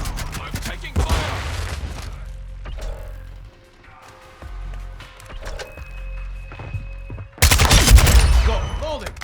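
Gunfire in a Call of Duty Modern Warfare team deathmatch comes as loud bursts at the start and end. Between them are mechanical clicks, rattles and in-game voices.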